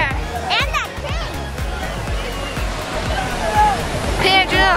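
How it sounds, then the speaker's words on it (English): Water pours steadily from a waterfall at a water park, a continuous broad rush of splashing under loud, busy crowd chatter and children shouting nearby. "go to that waterfall way over there"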